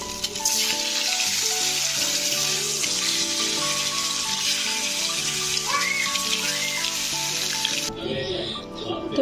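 Eggs fry in oil in a pan with a steady, close sizzle and crackle. Background music plays underneath, and the frying fades out near the end.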